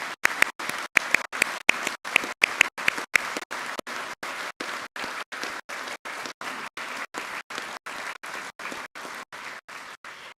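Audience at a spring military commissioning ceremony for cadets applauding steadily for about ten seconds in a dense, sustained wash of clapping.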